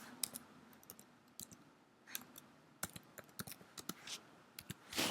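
Someone types on a computer keyboard, a run of light, irregular clicks at close range, sparse at first and quicker toward the end, with no voices.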